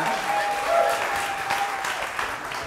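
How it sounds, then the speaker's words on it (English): Steady applause from an audience fills the whole stretch, a dense wash of clapping at even loudness with no pause. "Yeah, yeah, clap all you want."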